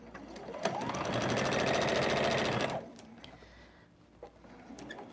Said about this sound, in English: Now we're going to see how loud the sewing machine is with a microphone.